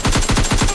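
Rapid automatic gunfire in a shooter video game, a tight burst of about seven evenly spaced loud shots within under a second.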